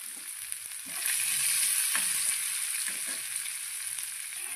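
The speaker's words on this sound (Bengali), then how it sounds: "তেলের মধ্যে দিয়ে এখন দিয়ে দেবো আমি পেঁয়াজ কুচি দিয়ে দেবো আর কাঁচা লঙ্কা কুচি।" Chopped onion and green chili frying in hot oil, a soft steady sizzle with a few stirring scrapes, close by and fairly quiet, with no voices.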